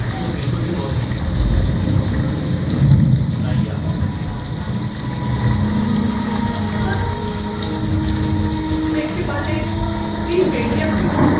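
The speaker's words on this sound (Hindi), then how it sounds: "मैंने सोचा कि इतनी बारिश हो रही है, तुम्हारा जाना तो हो नहीं पाएगा" Heavy rain performed as a sound effect in a Hindi stage play: a continuous hiss and patter of falling water with low rumbles, running steadily at moderate loudness beneath a murmur of voices.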